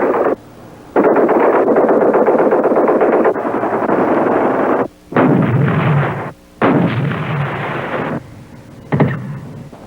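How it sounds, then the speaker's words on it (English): Artillery and mortar fire from a 1976 US Army training film roars in long, loud, overlapping bursts with brief gaps between volleys. "Artillery and mortars are a vital part of the combined arms team."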